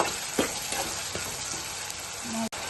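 Chopped onions frying in a pan for a bitter gourd curry, a continuous soft sizzle with a few faint stirring scrapes, fairly quiet and steady, ending with a brief dropout.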